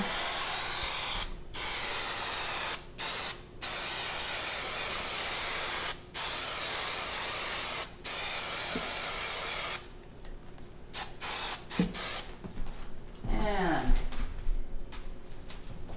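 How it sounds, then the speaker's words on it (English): Repeated bursts of hissing aerosol adhesive spray onto a motorcycle saddlebag liner, close and loud, broken by short pauses, followed by quieter handling noises and rustling. "And then going over to the bag, we're going to spray this part"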